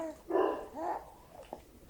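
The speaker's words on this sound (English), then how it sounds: "my dog's still barking" A pet dog barks in a home, a loud burst of two or three close barks followed by a fainter yip, with no talking over it.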